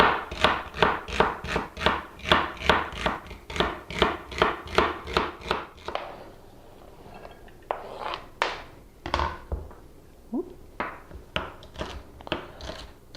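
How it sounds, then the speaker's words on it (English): A knife chopping celery sticks on a cutting board, a fast, even run of crisp thunks that breaks into slower, scattered cuts, close and fairly loud with no talking. "Just awesome chopping. Chop, chop, chop, chop, chop."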